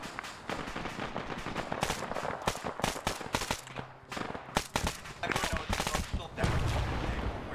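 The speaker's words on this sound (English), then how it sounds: "Taking artillery fire." Dense gunfire and artillery blasts from the Arma 3 video game crack in rapid bursts, with sharp impacts and heavier booms, loud and continuous across the scene, and occasional voices in the mix.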